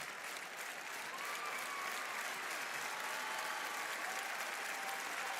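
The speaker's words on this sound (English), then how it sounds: "WWE fans applauding this great matchup for the Women's Intercontinental title." Crowd of WWE wrestling fans at a women's title match clapping steadily from a distance, a continuous wash of arena applause with no clear voices on top.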